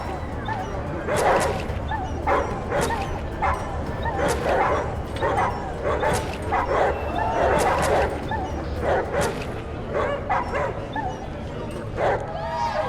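Dogs fighting in the video game ATOM RPG, with repeated sharp barks, yips and whimpers in bursts across the span, loud and close, and someone talking at times underneath.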